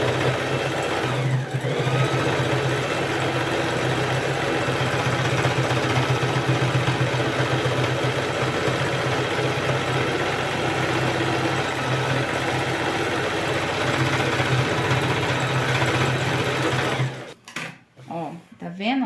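A sewing machine stitches a patchwork rug of TNT fabric scraps, a close, steady mechanical whirring that runs continuously for about seventeen seconds before stopping with a few clunks.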